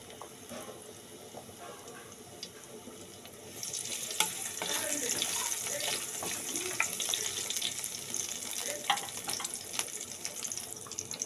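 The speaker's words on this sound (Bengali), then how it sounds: "দেখো এখানে তেলটা কিন্তু গরম হয়ে গেছে, এতে আমি এবার একটু রসুন কুচি দিয়ে দেবো।" Chopped garlic goes into hot oil in a home kitchen while cooking potol and potato. A quiet background suddenly becomes a steady, bright sizzling hiss partway through and keeps going.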